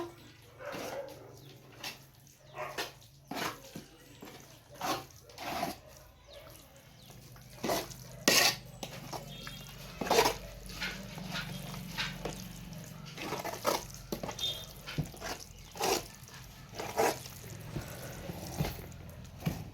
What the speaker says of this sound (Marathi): हे मध आता मिक्स करून घेऊया पूर्ण आणि डब्यामध्ये ठेवून स्टोअर करूया